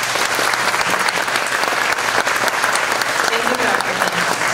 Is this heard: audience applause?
yes